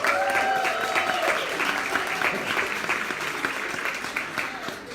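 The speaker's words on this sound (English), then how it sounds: "Let's give her a big round of applause." An open mic audience claps steadily and loudly for an incoming performer, a dense sustained round of applause that tapers slightly toward the end, with a voice faintly audible over it.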